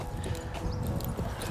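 Hooves of a giant draft horse, the world's tallest, clop steadily on the ground while ridden, a soft irregular series of muffled footfalls heard at moderate distance with no talk.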